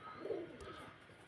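A Roman Girl pigeon pair, male and female, gives a brief, soft coo, faint against a quiet background with no talking.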